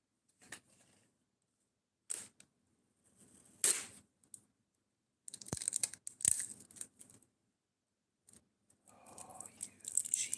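Cheap packaging tape being pulled and torn while taping a set of washers, heard as a few scattered, fairly quiet bursts of ripping and crinkling separated by silence.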